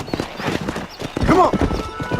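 Horse hooves clip-clop at a gallop in the Western video game Red Dead Redemption, a quick rhythmic run of thuds with a short neigh partway through and a voice speaking over it.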